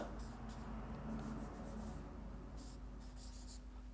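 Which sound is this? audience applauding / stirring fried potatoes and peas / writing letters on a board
writing letters on a board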